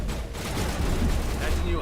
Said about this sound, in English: It's got freaking turrets.